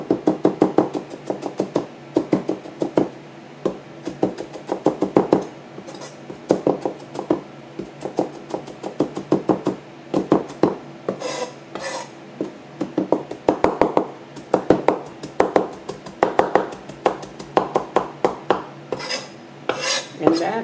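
A knife chops parsley thinly on a cutting board, making rapid steady knocks in short bursts with brief pauses between runs, close and crisp with no talking.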